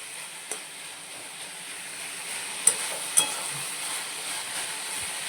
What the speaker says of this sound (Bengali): সেই জন্য আমি গ্যাসটা বাড়িয়ে আমি এটাকে ভাজা ভাজা করব